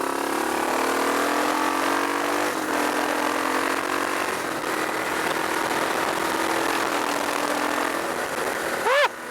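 A 2023 Energica Experia electric motorcycle rides along with a rising electric motor whine under steady wind rush, ending in a quick upward swoop of pitch.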